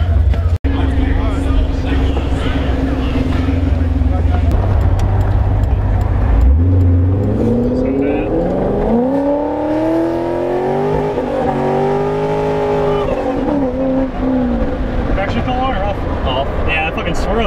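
A car pulls away from a car show: a close, steady engine drone gives way to revs that climb through several rising surges as it accelerates off, loud throughout.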